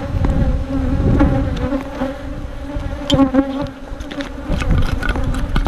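Honey bees buzzing around a hive in full sun during hive maintenance, a dense continuous drone from many insects close by, with individual bees flying past now and then and no talking.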